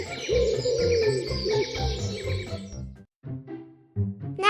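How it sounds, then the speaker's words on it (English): A wild pigeon calls in a clear, close series of soft bird notes lasting several seconds, then a short pause before a few more calls, with no other sound. "What is this animal? Pigeon."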